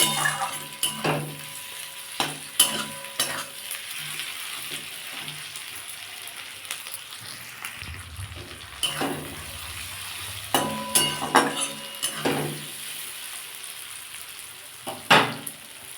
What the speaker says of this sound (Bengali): আমি এর মধ্যে একটু আদা রসুনের পেস্ট দিয়ে দিলাম দিয়ে ভালো করে এটা একটু নেড়ে নেবো